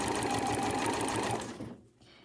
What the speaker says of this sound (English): I'm sewing in the crease of the binding.